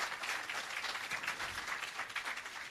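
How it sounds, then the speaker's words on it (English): Sustained applause from an audience at the official opening of an agro park in Jamaica, greeting the Prime Minister; dense, steady clapping throughout at even loudness with no voices over it. "And you can give another round of applause for that."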